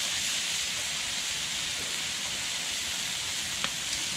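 Chicken pieces sizzling on a hot flat top griddle, a steady broadband hiss that holds evenly throughout at moderate level, with one faint sharp tick near the end and no talk.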